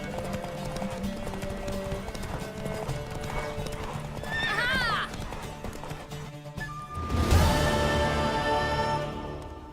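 In the Witcher 3 video game, a horse's hooves clip-clop steadily in a gallop, with a loud whinny partway through and a second surge of hoofbeats later, over music and ambient game sound.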